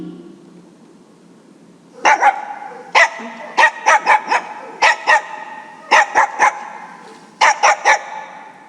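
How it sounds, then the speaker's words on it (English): A dog barks in short bursts, mostly doubles and triples, loud and close over a quiet background, with brief pauses between groups. "Dog."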